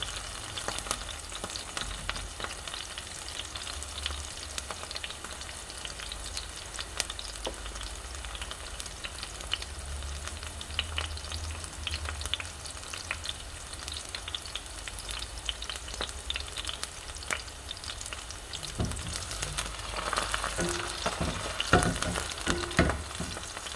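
Bitter melon slices fry in a hot pan with a steady, dense sizzle and crackle that holds for the whole stretch, stirred now and then, with a few louder pops near the end.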